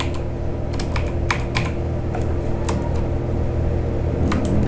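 Computer keyboard typing of text in Adobe Illustrator, a steady run of quick, close keystrokes clicking over a constant low hum, with no voices.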